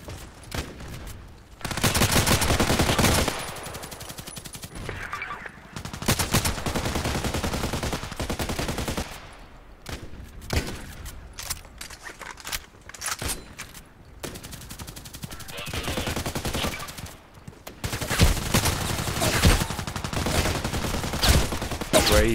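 Rifle gunfire in the shooter game Contract Wars cracks out in loud bursts and single shots with short gaps, sharp and close, and a voice is faintly present now and then.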